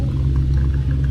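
A motorbike engine rumbles low and steady on a rough, remote route in northern Laos, a close, continuous drone with no voices.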